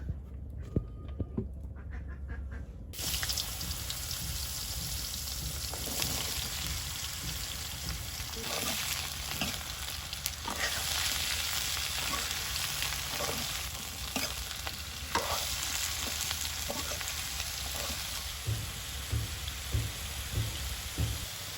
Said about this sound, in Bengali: পটলগুলো ভাজার জন্য দিয়ে দিচ্ছি পরিমাণ মতো তেল।